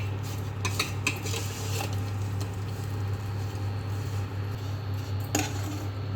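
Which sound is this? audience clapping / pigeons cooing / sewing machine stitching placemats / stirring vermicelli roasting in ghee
stirring vermicelli roasting in ghee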